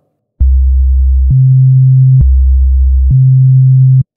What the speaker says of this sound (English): If I play two notes an octave apart way down in the bass